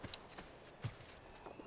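Faint, scattered hoof clip-clops from a horse in Assassin's Creed 2, a few soft irregular thuds over a quiet game background.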